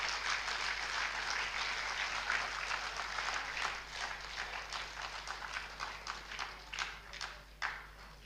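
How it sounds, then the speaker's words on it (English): Audience applause at a general body meeting of a retired officers' association, a broad sustained patter of many hands clapping that swells with a few sharper bursts and tapers off, with no talk over it. "I think probably we need the loudest of the applause for him."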